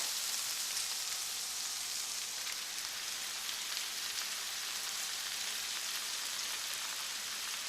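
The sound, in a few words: cabbage added to onions frying in a pan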